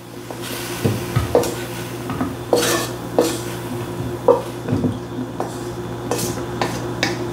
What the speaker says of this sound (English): Now all we're gonna do is take this broccoli out.